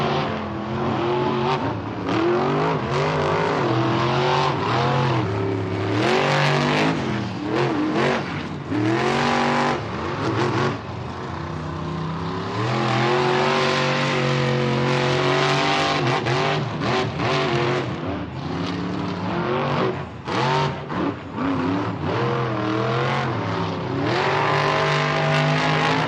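Monster truck engines rev and roar loudly and continuously during a Monster Jam racing event in a stadium in Atlanta, with pitch rising and falling as the trucks accelerate, plus brief tire squeals.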